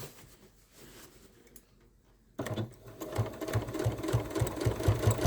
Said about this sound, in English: so you're just going to top stitch and then down the notch and then back around and then down the other notch